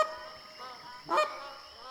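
Goose-like honking from a large flock of game birds in the hunting game theHunter: Classic, a few faint calls in the distance followed by one louder, nearer honk, then quieter calls trailing off.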